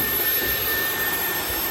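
A vacuum runs with a steady, loud whooshing suction roar while rust sealer goes onto the floors of a 1991 Chevy truck.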